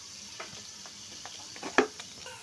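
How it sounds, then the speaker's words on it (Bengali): Potato pieces fry in a pan with turmeric and salt for a traditional village-style chicken curry, giving a soft, steady sizzle and one sharp clink of stirring near the end. "এবার আমি আলুটা ভেজে নিচ্ছি।"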